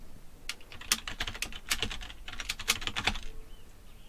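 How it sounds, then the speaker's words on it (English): Quick, light clicks of fingers typing on a computer keyboard, arriving in short irregular bursts with brief pauses, close and fairly quiet in a still room. "start typing comp and then hit enter."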